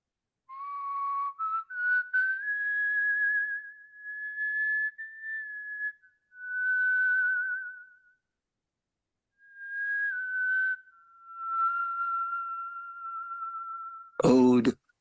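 A woman whistles a slow, wavering melody in long sustained phrases separated by short pauses, clear and close against silence, with a brief noisy burst at the very end.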